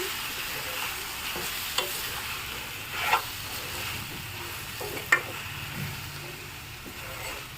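Jackfruit seed masala curry being mixed in a pan, with low scraping and gentle sizzling throughout and a few brief spoon clinks against the pan, no one speaking.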